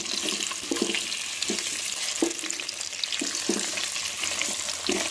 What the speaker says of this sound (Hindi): और आलूओं को करना है हमने 3 से 4 मिनट फ्राई